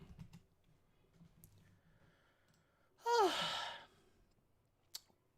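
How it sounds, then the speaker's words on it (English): A person gives a single drawn-out yawn with a rising, breathy vocal sweep lasting about a second, close to the microphone amid quiet keyboard typing and clicks. "Sorry for that awkward yawn."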